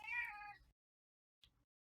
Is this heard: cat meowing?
yes